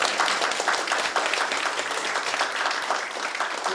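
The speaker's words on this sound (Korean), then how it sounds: "이럴 때는 박수를 주시면 됩니다." Audience applause at a public forum on an elder-abuse prevention ordinance: steady dense clapping from a crowd, sustained and even throughout, moderately loud with no talk over it.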